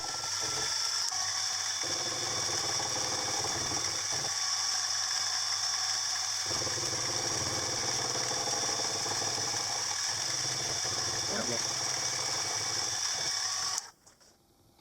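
A milling machine fly cutter cuts an arc into brass bar with a steady, close mechanical chatter and whirring hum, running continuously before stopping abruptly near the end.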